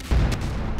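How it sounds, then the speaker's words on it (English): Methane gas in a sewer ignites in a video game, a sudden deep boom with a heavy low-end thump that decays into a rumbling tail, heard alone. "I think we might have accidentally lit the methane in the gas."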